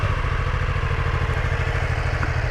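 BMW F 450 GS motorcycle engine idling up close, a steady low putter with even rapid firing pulses and a faint mechanical clatter, with no voices.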